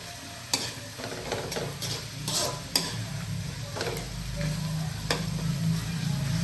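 Pork fries in a pan for creamy spaghetti, a constant close sizzle broken by repeated scraping and stirring strokes, with a low hiss that swells toward the end.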